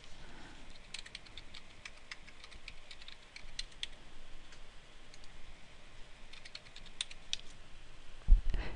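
Fingers tap out a long library card number and short PIN on a computer keyboard, a quiet, close patter of keystrokes in uneven bursts with pauses between them.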